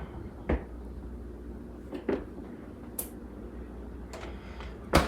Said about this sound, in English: Now here's the refrigerator door.